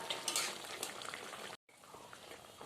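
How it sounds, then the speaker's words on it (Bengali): A pot of fish curry broth bubbling at a rolling boil, a steady dense crackling hiss that runs continuously except for a very brief break. "আমাদের ঝোলটা ভালো করে ফুটে গেছে"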